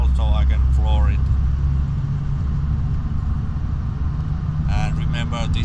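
An Audi A8 1.2 TDI accelerating at full throttle in fourth gear on a level road, a steady loud engine drone and road rumble throughout, with someone talking over the first second and again near the end.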